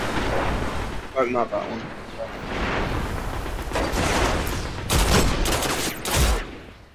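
Fusion rifle fire in the video game Destiny crackles through dense, rumbling in-game battle noise, with two sharp bursts late on, while someone talks briefly over the action.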